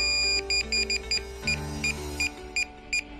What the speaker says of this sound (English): The remote controller will start to beep after 2 seconds.